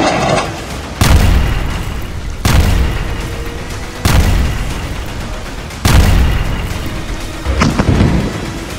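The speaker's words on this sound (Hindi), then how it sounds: "इजरायल के तूफानी हवाई हमलों में बमों के धमाके ऐसे इमारतों को उड़ा रहे हैं" Israeli airstrikes on buildings in Gaza set off heavy bomb blasts that land one after another every second or two. Each one starts with a sharp boom and rumbles away under a constant rain-like hiss.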